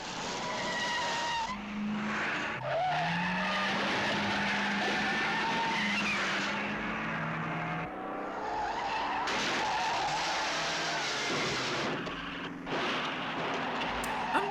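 Car chase from a 1970s James Bond film trailer, with tires skidding and squealing in long sweeps, engines revving and cars rushing past loudly, continuous and busy throughout.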